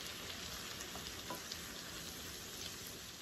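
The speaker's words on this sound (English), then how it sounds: "You stir the shrimp around a little bit." Shrimp fry in a pan, giving a faint, steady crackling sizzle with a soft background hiss and no speech.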